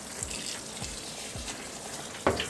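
Water runs steadily into a washing machine filling on a rinse and spin cycle, a soft continuous splashing and trickling with a few faint knocks and a small clunk near the end.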